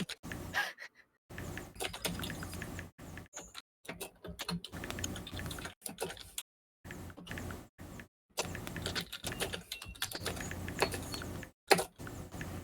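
Clicky keystrokes on a computer keyboard come in bursts separated by short silences, close and fairly quiet, with no voices.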